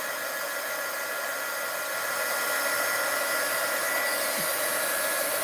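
A heat tool blows a steady, loud whooshing roar as it warms the glue seal on a magazine, a continuous airy hiss that holds without a break, close by and with no talk.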